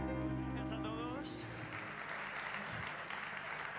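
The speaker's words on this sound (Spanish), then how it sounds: "Fuerte el aplauso para Juan y fuerte el aplauso para Tony" Audience applause at an awards ceremony breaks out after a sustained musical tone, a steady wash of many hands clapping at moderate distance, fairly faint, continuing to the end.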